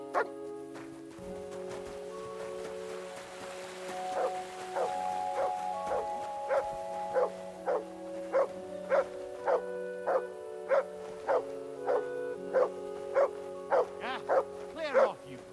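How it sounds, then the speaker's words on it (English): A dog in Kingdom Come Deliverance 2 barks on command, a string of sharp, evenly spaced barks that grow quicker toward the end, heard over a low game ambience. "Sit and bark."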